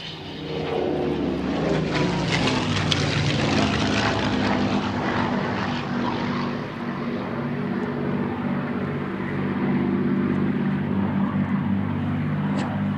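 A Spitfire Mark IX, PL344, flies at the Flying Legends airshow at Duxford with a loud, continuous propeller-engine roar that holds steady and close throughout, without a break.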